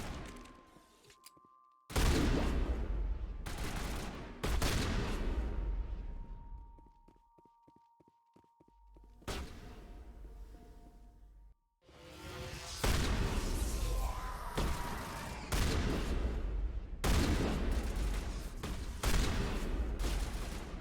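Shotgun blasts in a video game: loud, broadband booms arrive in irregular bursts with brief pauses between them, mixed with thuds and scattered clatter, close and heavy with no voices.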